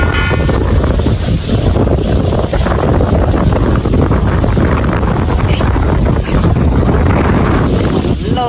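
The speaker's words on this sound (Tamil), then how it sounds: "நல்ல ஒரு காற்று, நல்லா சிலு சிலு நீங்கள் காற்றடிக்குது ஃப்ரெண்ட்ஸ்" Strong outdoor wind buffets the microphone in a steady, loud, broadband rush that continues throughout, with faint voices underneath.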